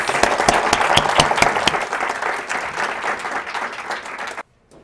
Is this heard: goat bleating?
no